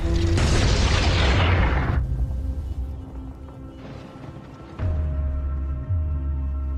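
A deep boom bursts out as a freeze bomb explodes in a film, then a long rumbling roar that fades over a couple of seconds, followed by lower rumbles and a second heavy thud.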